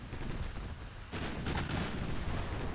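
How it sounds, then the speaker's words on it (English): Warship main guns fire in the Ultimate Admiral Dreadnoughts naval game, a heavy, broadband boom hitting around the one-second mark. Dense rumbling battle noise follows close and loud. "our main gun should kill this thing really quickly"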